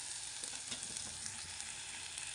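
Onion and tomato fry in hot oil for a dried-fish curry, giving a short, even, close sizzle with light crackling throughout.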